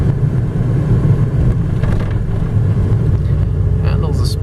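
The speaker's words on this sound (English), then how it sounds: "Handles the speed bump much better than it handles the regular surfaces of the road, believe it or not." A 1995 Toyota pickup 4x4 with a five-speed manual drives over a speed bump, its engine giving a loud, steady, low drone heard from inside the cab for the whole stretch.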